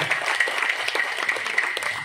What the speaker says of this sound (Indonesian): Tepuk tangan untuk Pak Darmadi Puryanto.